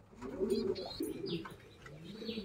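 A racing pigeon coos softly nearby in a few short, throaty bursts, with faint chirps in a quiet loft.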